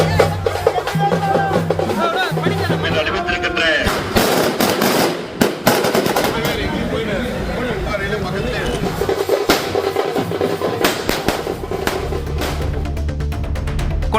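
Firecrackers burst in rapid, crackling volleys to welcome an AIADMK campaigner canvassing for votes in the Tamil Nadu Assembly election, loud and close, with a voice talking over parts of it.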